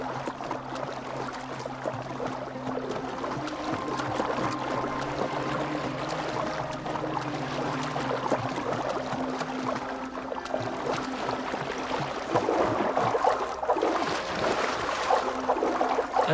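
A boat gliding through marshy water in Assassin's Creed Valhalla, with a steady soft wash and lapping of water and a faint low hum beneath it, continuous and fairly quiet throughout.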